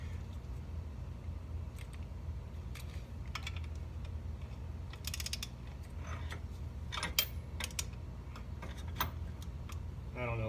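Torque wrench ratcheting to 60 foot-pounds during a Duraclutch install on a 2016 Polaris Ranger 900 crew, a series of faint sharp clicks and ticks over a low steady hum.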